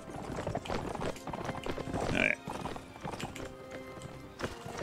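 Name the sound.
horse hooves galloping, from the video game Mount & Blade Warband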